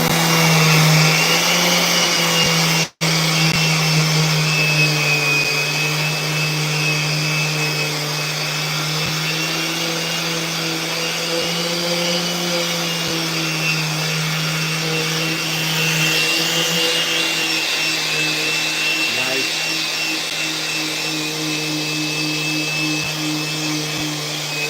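A skateboard deck gets its finish sanding with 150-grit paper on a power sander, a loud continuous droning whir that holds steady for the whole stretch with only a momentary break near the start.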